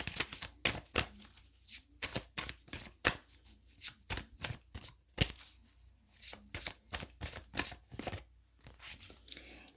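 Oracle cards being shuffled by hand in a steady run of crisp, rapid riffling bursts, close and fairly loud, with brief pauses between handfuls and no talking.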